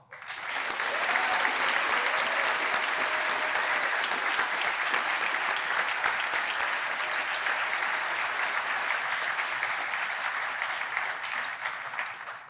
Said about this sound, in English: Let us please applaud your families, friends, and loved ones